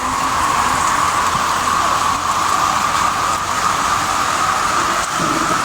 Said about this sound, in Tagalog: Kasi tuloy-tuloy pa rin yung ulan.